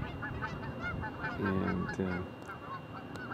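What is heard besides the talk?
geese honking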